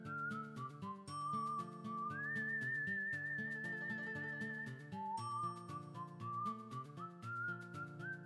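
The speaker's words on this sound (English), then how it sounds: "They have a lot more whistling in the OST this time around." Melodic whistling carries a tune in the Wild Arms 3 soundtrack on PS5, a clear warbling line gliding between notes over steady instrumental backing, moderately loud and continuous with no talking.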